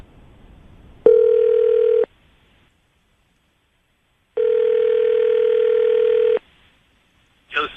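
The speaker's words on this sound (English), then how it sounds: "we'll call him right now, see if we can get him on the phone" A telephone call rings out on the line: two long electronic ring tones separated by a silent gap, clear and evenly pitched, followed by a brief voice at the end.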